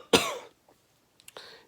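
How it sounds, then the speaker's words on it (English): A single harsh cough bursts out close by, followed by a quiet pause and a couple of smaller throaty coughs. "I can't stop coughing"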